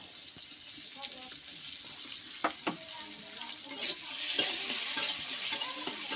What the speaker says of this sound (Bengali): দিয়ে পেঁয়াজ রসুনটা লাল লাল করে ভেজে নেব।